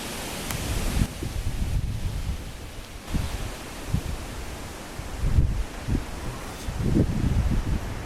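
Strong wind blows through a forest at a bivouac spot in Denmark, rising and falling in gusts with rustling, roaring bursts against a constant airy rush.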